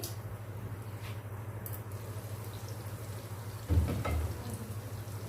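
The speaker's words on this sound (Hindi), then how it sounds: "दो मिनट तक इसको कवर करेंगे और मीडियम लो हीट पर पकाएंगे" Noodle omelette cooking covered in a pan on medium-low heat, a soft steady sizzle with a low hum under it and a brief clatter partway through, no talking.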